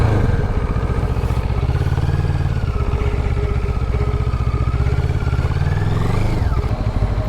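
A Moto Morini 6 1/2 (Seiemmezzo) motorcycle engine runs steadily and loud throughout, with a rhythmic mid-range thrum and a rising rev near the end as the bike pulls away.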